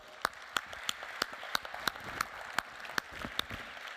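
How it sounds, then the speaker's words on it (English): Sparse, evenly spaced hand claps from a small group, quiet and steady, at a radio industry conference session. "please give them a round of applause"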